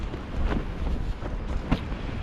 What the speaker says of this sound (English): It is gusting up to 26 to 30 miles an hour.